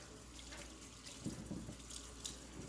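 Water runs steadily from a sink tap while hands are rinsed, a constant close hiss and splash with small bursts of louder splashing as the hands move under the stream.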